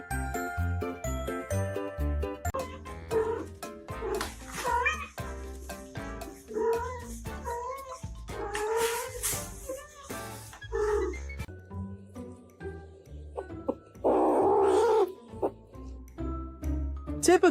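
Kittens meow repeatedly while playing, with high cries and yowls mixed with light jingling, some rustling, and a burst of louder scuffling noise near the end.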